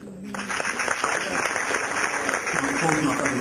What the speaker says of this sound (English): they really all deserve a round of applause